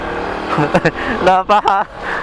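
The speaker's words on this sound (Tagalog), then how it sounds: "Napasubo yung motor ni Kuya Talentino sa akyatan" A motorcycle engine strains and revs on a steep uphill road, heard steadily under people talking, with the pitch rising and falling as the rider pushes up the slope.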